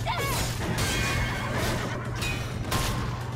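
An alien horse creature in the video game Stellar Blade lets out a whinny amid crashing combat impacts, with a steady low game hum beneath and repeated bursts of noise.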